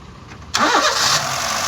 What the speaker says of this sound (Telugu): సింగిల్ సెల్ఫ్ బండి స్టార్ట్ ఉంది, ఎటువంటి స్టార్టింగ్ ట్రబుల్ లేదు